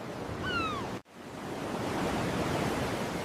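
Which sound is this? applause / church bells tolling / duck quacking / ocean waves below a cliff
ocean waves below a cliff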